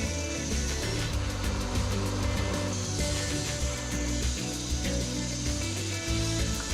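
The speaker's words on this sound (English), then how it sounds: "round off the corners using the belt grinder" A belt grinder rounding off the corners of a metal part, a loud continuous whirring abrasive grind with a steady tone and slight fluctuations as the workpiece is pressed against the belt.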